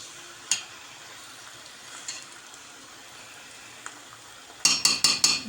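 Lentils with salt frying and being stirred in a pan, a soft steady sizzle with faint scrapes, ending in four quick, sharp spoon knocks against the pot.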